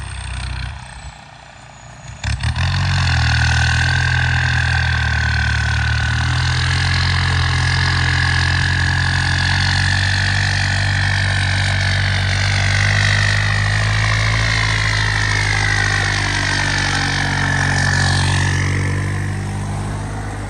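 A tractor with a rotary tiller churns through a flooded rice paddy in Thailand, its engine droning loud and steady at close range for the whole stretch, with a brief dip near the start and a pitch change toward the end.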